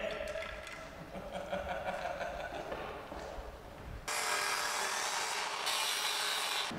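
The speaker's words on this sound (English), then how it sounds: "But this saw blade is gonna cut through and come through right about in here." Saw blade cutting through a wooden climbing hold, a steady rasping cut with a harsher, louder, brighter stretch of sawing in the second half, close up, with no talking.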